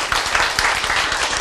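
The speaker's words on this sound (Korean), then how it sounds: "여러분이 박수를 치고 계신 동안에" Lecture audience clapping in a hall, a dense, steady wash of many hands at even loudness through the whole stretch, close and full with no voices standing out.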